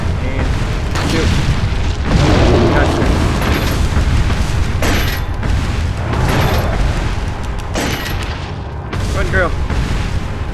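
Gunshots and booming explosions from Resident Evil 4 gameplay sound over a dense, noisy battle, several heavy blasts spaced through the clip, with a person talking at times.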